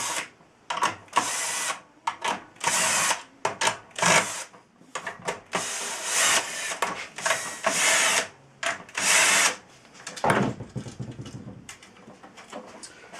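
A power tool spins off nuts from a Yamaha EMX860ST powered mixer during repair, in a series of short, loud whirring bursts with brief pauses between them, close up and with no talking.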